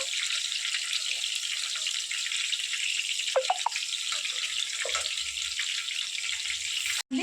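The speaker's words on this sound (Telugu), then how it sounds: "అట్లా నటుపక్క కూడా కొంచెం గోల్డెన్ కలర్ వచ్చే వరకు ఫ్రై చేసుకున్నాం" Chicken kebabs fry in a pan until golden, giving a steady, close sizzling hiss with a few light clinks of turning midway, before the sound cuts off abruptly at the end.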